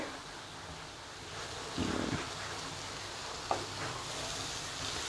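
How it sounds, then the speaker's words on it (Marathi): Taklya wild greens are stirred in a pan over a steady low sizzle, with a brief scraping rustle partway through and a single small knock. "तर मी ही व्यवस्थित ढवळून घेते"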